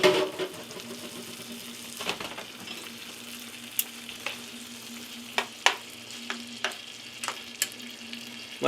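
Large deveined shrimp fry in a pan with a steady, quiet sizzle, broken by scattered sharp pops and clicks as they are spread out.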